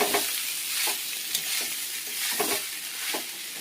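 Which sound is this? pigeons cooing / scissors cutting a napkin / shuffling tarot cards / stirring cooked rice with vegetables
stirring cooked rice with vegetables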